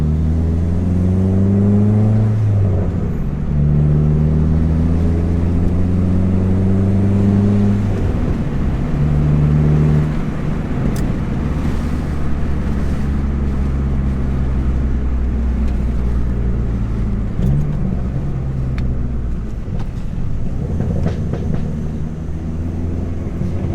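A Dodge SRT-4 fitted with polyurethane lower control arm bushings drives over bumps, with steady, loud engine drone and shifting rev tones filling the cabin, and a few faint knocks as it rolls on.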